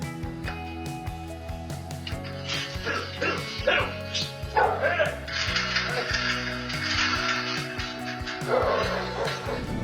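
A dog barks repeatedly at a thief, with sharp yaps and a whimper over steady background music.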